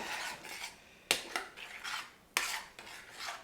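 A spoon scrapes and clinks around a pot of thick vegan mozzarella mixture made with agar and tapioca powder, giving a steady rubbing stir broken by two sharper knocks against the pot, close and fairly quiet.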